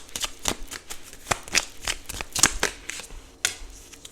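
Tarot cards are shuffled by hand during a reading, a close, crisp riffling of rapid papery flicks and slaps repeating in quick bursts, with no talk.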